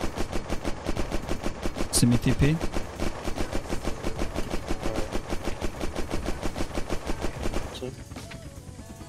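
Gunfire in the video game Unturned, a rapid sustained automatic stream of loud shots lasting several seconds before it thins out, with brief talk over it.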